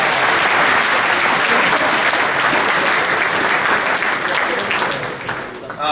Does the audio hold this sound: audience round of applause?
yes